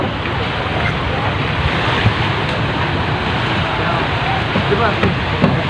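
Strong northeast monsoon wind roars over a rough, whitecapped sea, steady broadband rush and surf around a fishing boat offshore, constant and loud throughout with buffeting gusts on the microphone.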